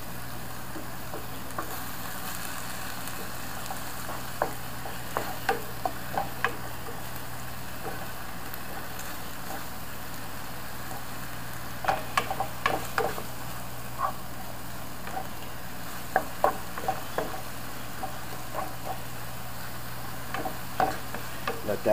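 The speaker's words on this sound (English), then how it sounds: "Let that saute." Garlic, about two tablespoons, sautéing in a pan for turkey bacon penne vodka with chicken, a steady soft sizzle with a low hum beneath and scattered scraping stirs and light clicks, no talk.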